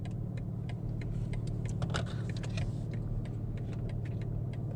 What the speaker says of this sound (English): 40 miles in the car, driving it back to Atlanta